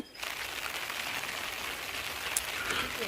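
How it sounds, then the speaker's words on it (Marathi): Steady monsoon rain falls on the hilltop at Sinhagad fort near Pune. It makes a dense, even hiss that continues unbroken with no voices over it. "पाऊस संततधार चालू झाली आहे"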